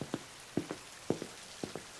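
Rain falls during a downpour, with single heavy drops landing on a surface in a slow, fairly even rhythm of sharp taps, about two per second. The drops are close but quiet, with no voices.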